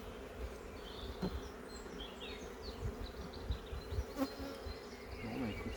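Honeybees from an orphaned hive with a lone queen and very few workers drone in a low, steady buzz, with individual bees zipping past close by against a faint outdoor background.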